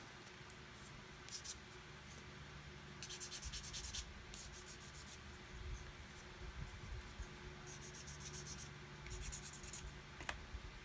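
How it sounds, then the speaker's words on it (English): Sandpaper rubs a paint nib smooth on a 1/72 Airfix Vulcan model kit, short quiet bursts of gritty scratching strokes in quick back-and-forth runs, very close and faint, with no talking. "Just clean that nib off with a knife. And sand away."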